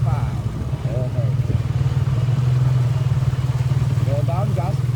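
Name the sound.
big bike motorcycle engine running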